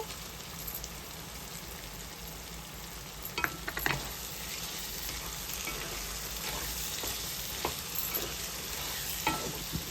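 Yogurt sizzling in a pan of spiced drumstick curry over a medium flame, a steady close frying hiss broken by occasional scrapes of stirring; no one speaks.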